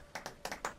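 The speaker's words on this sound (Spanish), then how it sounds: "Aplauden más fuerte." Players clapping in the game Content Warning: five quick, faint claps in an uneven rhythm, heard alone without speech.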